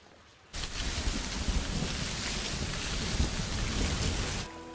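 Heavy rain pours down with rolling thunder, a dense constant roar that starts abruptly, stays loud and steady, then cuts off near the end.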